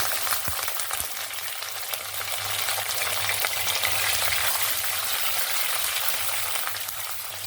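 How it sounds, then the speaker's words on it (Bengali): Onion and green chilli fry in hot oil with cardamom, cloves and star anise, a loud, steady sizzle with occasional stirring knocks, close up and without talk. "পেঁয়াজ আর কাঁচা লঙ্কাটা ভাজা হয়ে গেছে"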